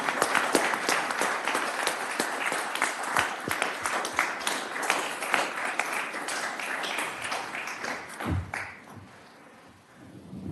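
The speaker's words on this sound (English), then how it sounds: "Shall we clap?" Applause at a city council meeting after a proclamation is presented, a dense wash of many hands clapping that holds steady, then thins and fades out near the end.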